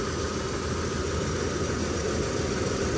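A GMC Canyon engine idles steadily after a broken throttle actuator control connector is replaced, a close, even, continuous hum with no talking.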